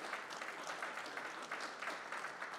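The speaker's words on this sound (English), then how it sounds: "Give yourselves a round of applause." Spectators at a pool tournament applaud, a fairly soft, even patter of clapping from a modest crowd heard from a little distance, steady for the whole stretch.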